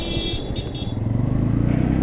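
A Bajaj Pulsar N160 motorcycle with a two-valve engine while riding, a close throbbing engine note that grows into a steady, pulsing drone as it accelerates.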